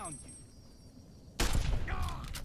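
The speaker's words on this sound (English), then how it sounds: "Couple shots for precious ammo to deal with him." Gunfire in the video game Fallout: New Vegas, a quiet stretch followed by a sudden loud burst of shots and crackling impacts that continue to the end.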